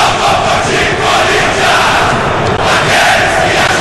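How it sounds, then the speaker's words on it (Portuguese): Corinthians supporters sing "louco por ti, Corinthians" en masse inside Beira-Rio stadium in Porto Alegre during a Copa do Brasil final, a dense, loud, continuous roar of chanting voices filling the stands. "Está ouvindo lá o louco por ti, Corinthians, sendo entoado no estádio Beira-Rio em Porto Alegre."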